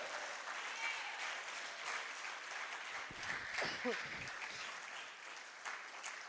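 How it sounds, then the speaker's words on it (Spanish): A church congregation applauds during a Sunday sermon, a steady broadband wash of clapping that runs the whole time and swells briefly in the middle, with a voice sounding faintly underneath. "Dele fuerte el aplauso si es para Cristo."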